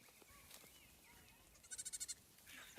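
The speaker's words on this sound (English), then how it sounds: "I don't know if you can hear them there. Ray, give us a thumbs up if you can hear the goats." A herd of about 20 to 30 farm goats bleats at a distance, with a quick burst of several pulsing bleats in the middle of an otherwise faint, quiet outdoor background.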